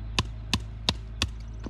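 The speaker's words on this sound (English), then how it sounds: "you have to try to find a place that you can hammer it through" Garden fence stakes being hammered into the ground, four sharp, evenly spaced metallic-woody strikes about a third of a second apart, then a fainter fifth hit, loud and close with a steady low hum beneath.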